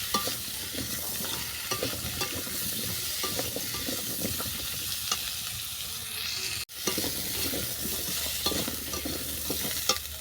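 Vegetables, with a stalk-and-greens chorchori in mind, crackle and sizzle steadily in a hot pan as a spatula stirs them, the frying close and continuous, with one brief near-silent break before it resumes.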